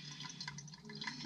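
Excess water drains out of a pipe in a short, faint, steady trickle and splash.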